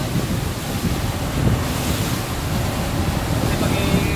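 Sea waves slapping around a small boat near Shark Island off Khorfakan, a loud, continuous wash of water with heavy wind buffeting the microphone and faint voices underneath.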